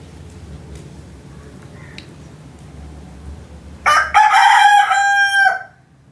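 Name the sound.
rooster crowing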